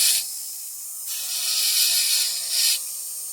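A rotary carving tool grinds against fire agate at about 3,000 RPM under light pressure, a steady high hiss-like whir that swells and eases in two bursts over a few seconds.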